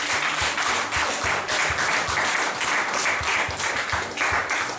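A church congregation claps and applauds steadily for several seconds, a dense, even roar of hands with a faintly rhythmic pulse and no voices distinct above it.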